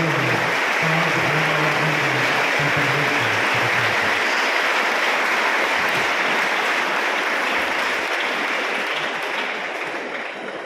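A church congregation at mass breaks into sustained applause, a broad, steady wash of many hands clapping that holds evenly and then begins to thin and fade toward the end.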